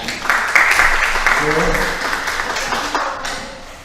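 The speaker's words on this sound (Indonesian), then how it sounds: "teman kita tepuk tangan dulu, tepuk tangan semuanya" A group applauds together during a school discipline session, a dense, even patter of clapping that holds steady while a voice speaks over it.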